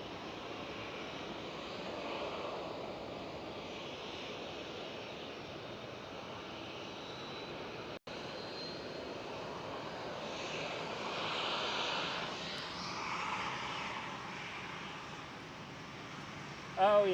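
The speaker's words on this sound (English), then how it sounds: "Right over here we do have British Airways A320." A British Airways Airbus A320 at Schiphol gives a steady, distant jet engine roar that swells slightly midway, heard alone at a low level with a brief click near the end.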